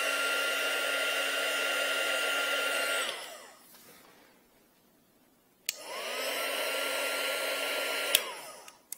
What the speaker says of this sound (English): So I'll barely heat shrink this because it doesn't need it.